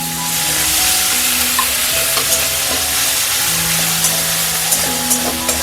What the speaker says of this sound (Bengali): আর রসুন বাটাটা দিয়ে একটু কষে নেব।